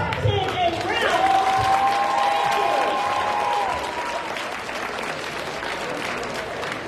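Sustained applause from a crowd at a senior class assembly honouring the top 10 students, steady and full throughout, with a voice heard over the clapping near the start.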